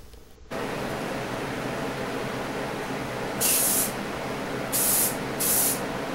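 Spray paint hisses onto a Tootsie Toy Sinclair tanker as a tack coat, a steady close spray with three short louder bursts near the end.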